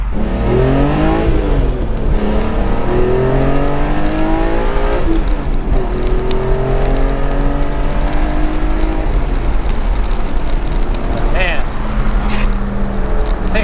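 A 2003 BMW E46 M3 S54 engine revs hard again and again, rising and falling in loud, sweeping pitch with throaty bursts between pulls.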